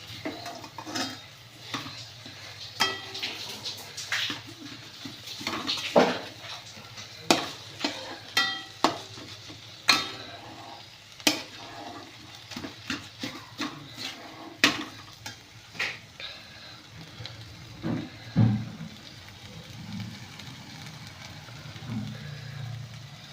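Sprouted moth beans and peanut powder are stirred in a light kadhai. A faint background hiss runs under repeated metallic scrapes and clanks of the spoon against the pan, with no speech.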